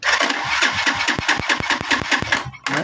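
A Euro 150 motorcycle with a misfiring engine is kick-started. A quick series of loud, close cranking thumps runs into a brief sputter before it cuts out near the end.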